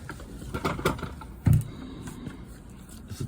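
A ratchet wrench turns out 10 mm bolts beneath the front of a Tesla Model Y during a carbon fiber front spoiler install, giving close, fairly quiet bursts of rapid mechanical clicking with one sharper knock midway.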